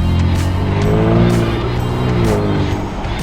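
Tuned Kia Stinger GT with all-wheel drive, its engine revving loudly and steadily while the car turns, a rich rising and falling exhaust note holding close throughout with a touch of tire noise.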